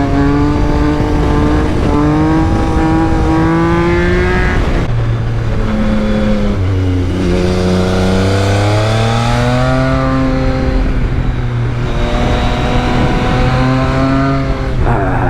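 A Yamaha MT-09 SP motorcycle engine revving hard through a series of curves, loud and close, the pitch climbing and dropping repeatedly with downshifts between bends, with no talking.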